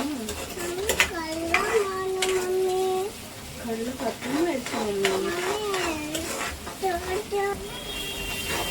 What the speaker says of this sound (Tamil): இப்போ தக்காளியும் கொஞ்சம் நல்லா வதங்கிருச்சு